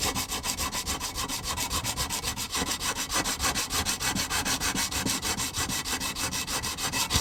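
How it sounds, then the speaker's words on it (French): Gasket surfaces of the engine casings from a 1984 Honda CR80 are hand-sanded in fast, even back-and-forth strokes, a close rhythmic abrasive rasp that continues steadily with no talking. "on va aussi revenir poncer légèrement tous les plans de joint"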